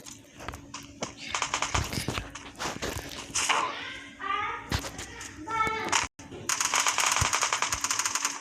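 Video game gunfire crackles in rapid bursts, with single shots and short automatic volleys among footstep sounds, under a player's voice.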